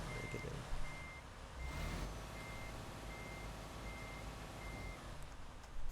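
A truck backing up a trailer, its reversing alarm beeping at an even pace over a low idling engine rumble.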